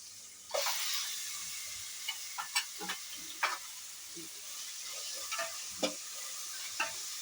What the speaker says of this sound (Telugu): ఇప్పుడు అల్లం తెల్లుల్లి పేస్ట్ వేసుకోవాలి